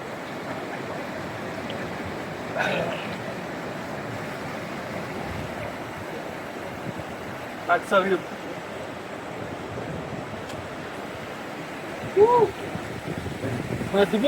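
The Baspa river in Sangla valley rushes as a steady broadband roar, with wind buffeting the microphone and a few short bumps along the way.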